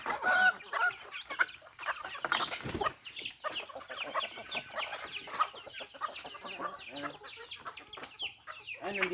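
A free-ranging breeder hen and her nine chicks cluck and peep close by, a busy run of short clucks mixed with thin high chick cheeps throughout.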